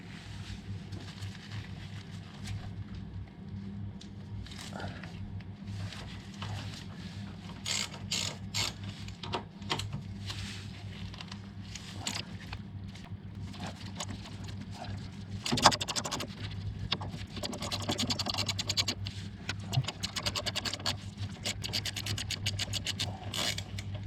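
A wrench works the brake caliper bolts loose on a Suzuki motorcycle, giving a long run of close, dry ratcheting clicks and metallic scraping that grows busier and louder toward the end.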